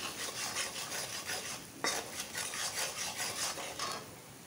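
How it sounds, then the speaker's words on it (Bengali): Spice paste with cumin and coriander powder frying in a pan, stirred with repeated scraping and rubbing strokes over a soft sizzle, one sharper knock near the middle. "আবার আমরা মশলাটা ভাজবো"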